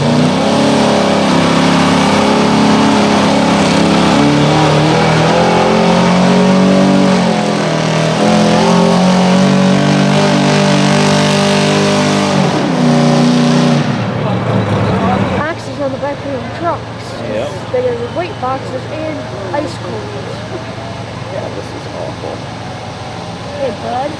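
A pulling tractor or truck revs hard at full throttle on a bad track, its roaring engine sustained for about fourteen seconds, then cutting down to a lower rumble with crowd noise and voices.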